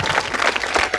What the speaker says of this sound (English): another round of applause to the entire team that have staged